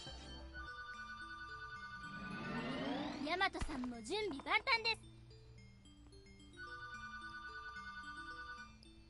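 A phone rings with a repeating electronic tune, looping at the start and again at the end, while someone talks loudly over the middle stretch.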